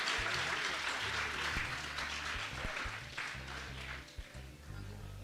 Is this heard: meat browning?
no